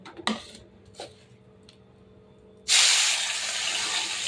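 Salt-and-turmeric-rubbed morola fish go into hot oil in a wok: after a few light clinks of utensils, a sudden loud sizzle bursts up and keeps hissing steadily and close.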